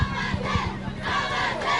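A crowd of youths shouts in a housing estate park, loud overlapping yells and calls forming a dense, chaotic roar close by.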